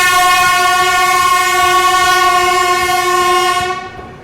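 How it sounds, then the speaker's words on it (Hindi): Ranchi Rajdhani Express hauled by a Royapuram-shed WAP-7 electric locomotive, arriving at New Delhi station; one long, loud, steady horn blast sounds close by for about four seconds, then cuts off. "रांची राजधानी अब एंट्री लेगी नई दिल्ली पे।"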